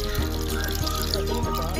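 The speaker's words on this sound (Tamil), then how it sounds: "இன்னும் கொஞ்சம் தண்ணி ஊற்றிக்கிறோம் பத்தலைனால" Water being poured into a pot of dried fish curry (karuvadu kulambu), a steady splashing trickle heard close up, with clattering kitchen sounds and a low hum underneath.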